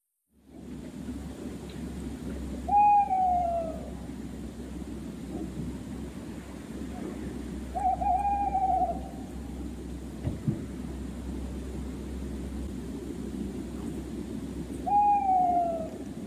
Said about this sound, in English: It's the sound of a real owl.